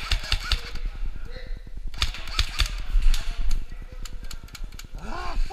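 Pistol fired during close-quarters battle practice: fast, even bursts of small sharp clacks, repeated in rapid runs with short pauses, close by, plus a few louder snaps and a muttered voice in between.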